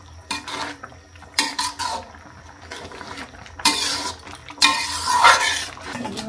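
Leafy greens mixed with raw rice flour are stirred in a pan, giving bursts of scraping and clattering utensil sounds against the pan at close range, separated by quieter gaps with a faint background hum.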